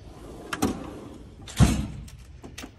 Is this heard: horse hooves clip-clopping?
no